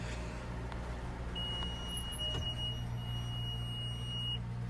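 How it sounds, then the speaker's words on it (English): A steady, continuous electronic beep tone from a silage baler signalling a full bale holds for about three seconds over a low, constant machinery drone while the bale is netted. "So that constant beep signifies the bale's full and that it now is netting."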